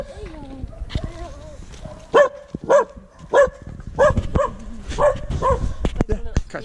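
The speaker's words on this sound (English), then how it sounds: "This is one of our friends' dogs." A friend's dog barks in a series of sharp, close woofs at a steady rhythm, with some whimpery yips, mixed with people talking outdoors in a village.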